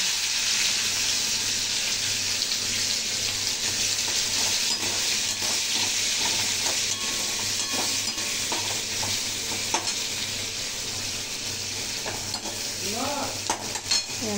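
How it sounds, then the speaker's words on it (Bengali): Onions frying in oil with five-spice in a wok, a continuous busy sizzle with scattered scraping and stirring clicks, close and steady throughout. "তারপরে পেঁয়াজ দিয়ে দিচ্ছি।"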